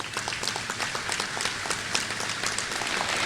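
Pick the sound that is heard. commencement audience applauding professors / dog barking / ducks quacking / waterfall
commencement audience applauding professors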